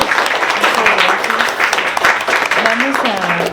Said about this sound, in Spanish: Le damos un aplauso muy fuerte a Mary